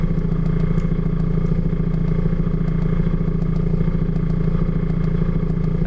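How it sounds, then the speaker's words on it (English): Raw vibration of a fan, picked up by a piezo contact microphone pressed to its back, forms a steady, dense mechanical hum and buzz with a fast regular rattle, close and unbroken throughout. "that's a raw recording of the jostle on the back of the fan"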